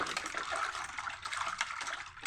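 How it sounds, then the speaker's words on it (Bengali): Rohu fish being washed in a basin of water, a soft continuous sloshing and splashing of liquid heard fairly close and alone, without speech. "দেশি মাছ একটু বেশি করে ধোয়া লাগে"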